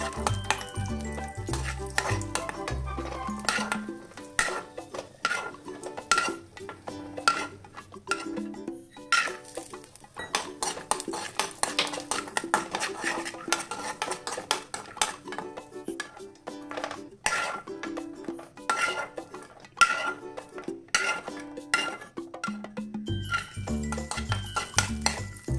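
Cashews and raisins frying in ghee in a pan for sabudana laddu, heard as a run of clinks and scrapes from a utensil stirring against the pan, with only a faint sizzle beneath, no voices.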